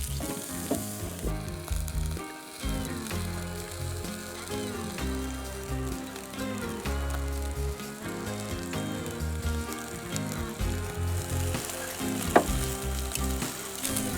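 Marinated spatchcock lemongrass chicken crackles and sizzles steadily on a hot grill, a continuous close spitting hiss with small irregular pops and one sharper snap near the end, with no talking.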